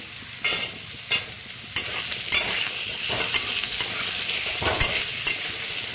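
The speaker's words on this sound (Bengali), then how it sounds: "একটু নেড়ে চেড়ে আমি এর সঙ্গে কেটে রাখা ছোট আমগুলো দিয়ে দিলাম।" Chopped small green mangoes stirred into sliced potatoes frying in a pan, a soft steady sizzle broken by periodic scraping strokes of a spatula, close and without talk.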